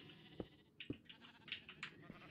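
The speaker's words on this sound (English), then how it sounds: "We have a runaway sheep." Sheep bleating in the Minecraft video game, several short synthetic bleats in quick succession alongside faint thumps, fairly quiet with no talking.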